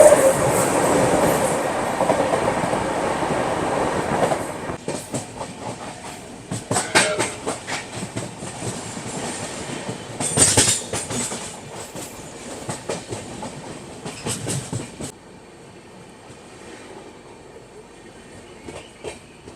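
An Indian Shatabdi Express between Chennai and Bengaluru, heard from inside an executive class coach: steady rumble with rhythmic clickety-clack of wheels over rail joints, loud at first and then settling to a quieter roll.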